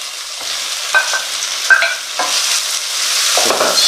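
Beef sizzles in a pan while being stirred, with a few sharp scraping clinks of the utensil over a steady frying hiss, close and fairly loud with no talk.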